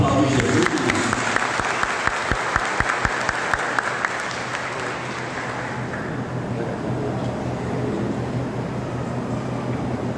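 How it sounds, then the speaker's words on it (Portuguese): A church congregation applauds during a Sunday sermon, loud dense clapping with a few sharp distinct claps early on, continuing steadily through to the end. "Vamos aplaudir Jesus."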